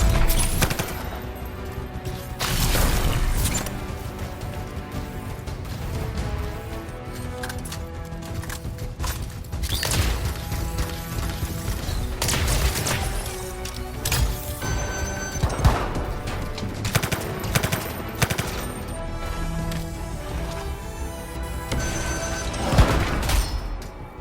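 Heavy turret gunfire in the video game Anthem, sustained loud bursts of shots and impacts layered with battle effects and music-like tones, continuous throughout without speech.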